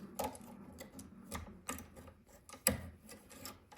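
Metal parts of the deck on a Foredom Wolf belt sander being fitted and its knobs tightened: a few sharp mechanical clicks and rattling knocks, close and fairly quiet, with no talk.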